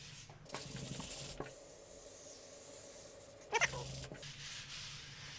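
Sanding scrapes rhythmically over a drywall patch in a quiet room, with a few louder rasping passes and a brief sharper burst partway through; nobody speaks.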